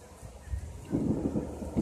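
Thunder rolls during rain, a low rumbling swell that builds and lingers under a steady hiss of rainfall, fairly distant and with no voices.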